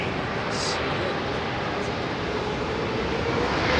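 A Boeing 767 airliner departing Heathrow gives a loud, steady broadband engine roar that holds throughout, with faint voices nearby.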